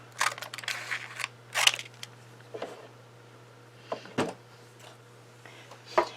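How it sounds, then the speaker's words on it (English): Scattered snips of scissors cutting cardstock, sharp crisp cuts with quiet gaps between them over a faint low hum. "you're just going to take a scissors and cut that off."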